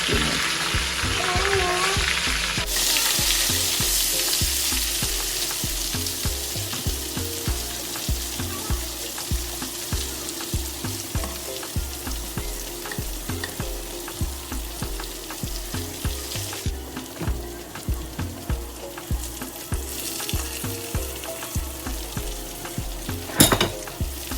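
Chicken meatballs frying in a pan of oil for a Guinean meatball stew, a loud, continuous sizzle with rhythmic bubbling crackles that runs steadily for the whole stretch, with occasional louder spits and clatter.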